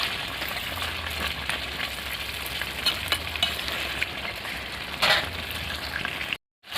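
Desi chicken with potatoes being stirred and cooked down in a pan, giving a steady close sizzle broken by scraping spoon strokes and one brief louder stir, with no talking.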